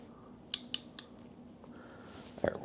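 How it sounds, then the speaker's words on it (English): A small wire is trimmed with cutters while wiring an AuxBeam slim switch panel: three quick, crisp snips close together, then a brief louder click near the end in a quiet room. "That is a really small wire. I'm going to trim just a little bit more off."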